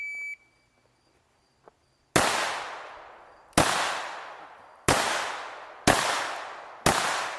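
Five loud, sharp handgun shots crack out during live-fire training, spaced about a second apart after a quiet opening with one faint click, each blast followed by a short decaying ring.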